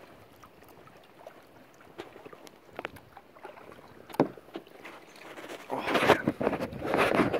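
A kayak paddled one-armed through mangrove water in Puerto Rico gives irregular splashes and drips, quiet at first and growing to louder, closer sloshing strokes toward the end, with a brief exclamation.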